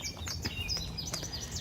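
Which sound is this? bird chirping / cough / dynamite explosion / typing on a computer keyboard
bird chirping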